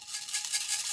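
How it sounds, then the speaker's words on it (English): Small beads rattle and swish steadily inside a closed coffee-cup shaker, a continuous hissing shake that is fairly quiet and heard on its own. "there's nothing to stop you putting some beads in there or something"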